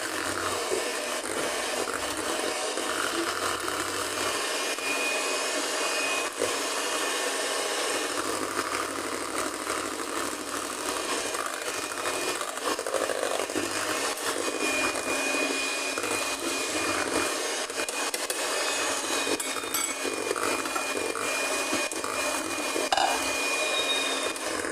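An electric mixer whirs steadily as it blends strawberry cheesecake filling ingredients, a continuous close motor drone with a faint rattle and no talking throughout.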